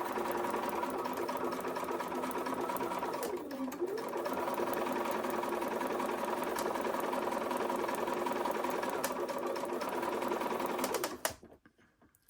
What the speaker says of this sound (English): you're just going to sew directly on the line between B1 and B2